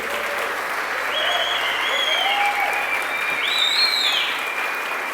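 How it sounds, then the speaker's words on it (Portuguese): A church congregation applauds a visiting pastor during a service, with steady sustained clapping throughout and a voice speaking over it. "Pode aplaudir, meu irmão."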